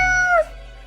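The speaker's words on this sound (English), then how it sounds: "The cat repeats a sequence of contented meows." A cat in the video game Death and Taxes gives one short, clear, close meow that rises and then drops away, followed by quiet.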